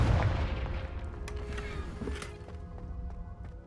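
Confringo blasting spell detonating in the video game Hogwarts Legacy, a loud burst at the start with rumbling low-end blasts and crackling debris, decaying through a continuous, noisy fade with no talking.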